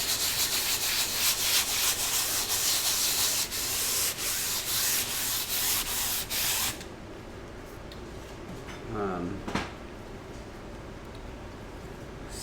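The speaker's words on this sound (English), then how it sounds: "Now I'm sanding it with 400." Sandpaper of 400 grit rubs over a gesso-coated canvas in quick, close, rhythmic strokes, stopping partway before a few softer scrapes follow.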